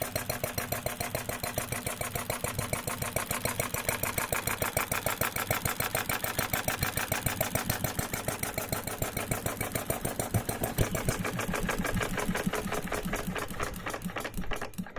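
A live steam model engine runs steadily at close range, giving a fast, even chuffing beat that holds for the whole stretch with no voices over it.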